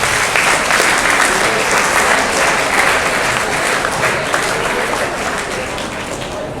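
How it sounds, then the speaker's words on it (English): Sustained applause from a school assembly audience at Don Bosco School, Borivali, dense and steady clapping throughout, fading slightly toward the end. "Let's give her a round of applause."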